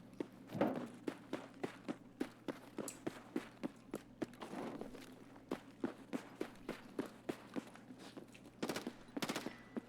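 A scav fires in Escape from Tarkov: rapid, regular sharp gunshots crack repeatedly at moderate distance across the whole stretch, with a louder cluster near the end over a low steady hum.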